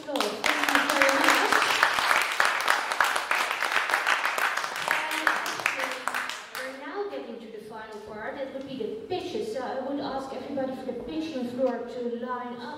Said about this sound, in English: we'll give Gabriel a big applause